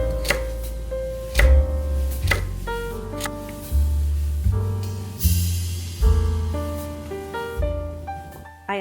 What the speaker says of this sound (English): We're gonna start off by cutting up some carrots and some celery.